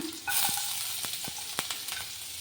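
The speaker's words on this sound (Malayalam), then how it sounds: "ഇനി വെളുത്തുള്ളി ഇട്ട് കൊടുക്കണം" Garlic added to hot oil that already holds mustard seeds, for a potato rice dish, sizzles steadily close by, broken by a few sharp clicks and taps of stirring.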